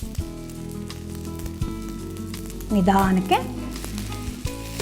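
An egg fries in a little oil in a pan, giving a steady, low sizzle beneath a person talking, with a few brief louder bursts midway.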